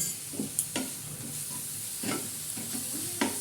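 Chopped fish roe frying with salt and turmeric, a soft steady sizzle with a few distinct stirring scrapes spaced about a second apart, nearby and fairly quiet, no speech.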